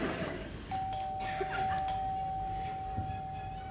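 A single electronic doorbell tone rings clearly in a quiet room and holds for a few seconds before fading.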